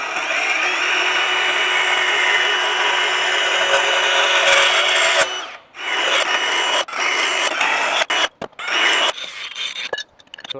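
A power saw cuts wooden blocks during a DIY heavy-duty attic shop elevator build: a loud, steady rasping cut for about five seconds, then shorter broken bursts of cutting with brief gaps between them.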